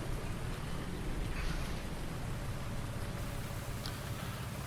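Steady rain hisses across a Farming Simulator farm scene, a continuous dense wash of drops that stays evenly loud throughout, with no voices and only faint tonal ambience underneath.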